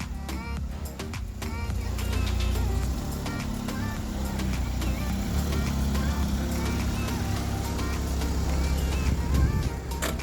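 A freshly polished and repainted Seat Arosa car idles outdoors with a steady, continuous low engine rumble, while people talk nearby.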